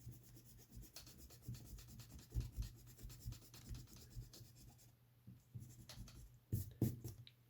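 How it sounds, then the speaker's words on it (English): A pencil eraser rubs back and forth over drawing paper in quick, soft scratchy strokes, faint and close, with short pauses between bursts. "if I was to rub out the lines I don't need"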